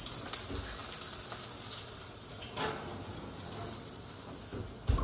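Fish searing in a hot oiled pan gives a steady, close sizzle and crackle of frying for the whole stretch, with faint clinks of kitchen activity and a louder knock near the end.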